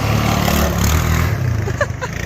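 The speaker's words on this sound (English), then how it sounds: "There's Dad on his Honda Rancher" Honda Rancher ATV engine revving hard as the rider pops up onto two wheels, a steady loud engine drone with shifting pitch, with people talking over it.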